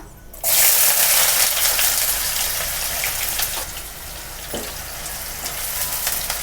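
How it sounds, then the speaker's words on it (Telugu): A medium-size onion hits hot oil already frying shahi jeera and whole biryani spices for a potato kurma, bursting into a loud, close, continuous sizzle that settles to a steady hiss, with a brief stirring clink. "మసాలాలు ఫ్రై అయ్యాక ఇప్పుడు ఆనియన్స్ వేసుకోవాలి మీడియం సైజ్ ఒక ఆనియన్"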